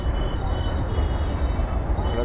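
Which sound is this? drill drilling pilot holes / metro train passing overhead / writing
metro train passing overhead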